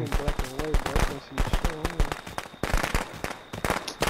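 Rapid firecracker pops crackle in a video game, sharp bursts repeating in quick clusters over a busy game soundtrack with someone talking throughout.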